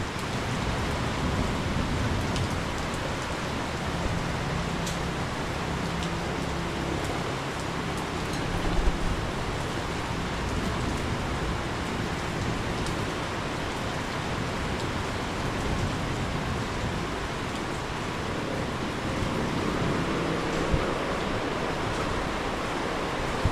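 Heavy rain pours down on a pigeon loft in a dense, even hiss that continues throughout, with no voices.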